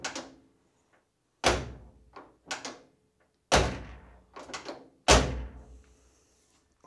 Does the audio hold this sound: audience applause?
no